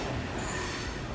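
A coal train passes Brayford level crossing with a brief, steady rolling rumble and rail noise at moderate distance.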